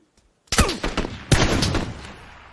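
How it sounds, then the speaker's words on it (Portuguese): Two loud gunshots ring out in a video game, each a sharp blast about a second apart followed by a ringing, decaying tail. "Dois tiros."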